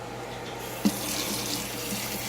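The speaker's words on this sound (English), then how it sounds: "Make sure that the water is a little bit warmer than lukewarm, but not so hot that it's gonna burn their skin." Tap water runs steadily from a faucet into a sink while a Persian kitten is readied for a bath, a continuous close splashing hiss with one brief knock near the start and no talking.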